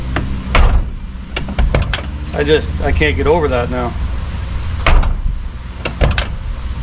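A Foxbody Mustang door clunks and latches several times in sharp knocks and rattles while someone speaks briefly in the middle.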